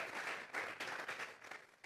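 Church congregation clapping as an offering to God, a brief burst of steady many-handed applause with slight pulsing, fairly faint and heard alone.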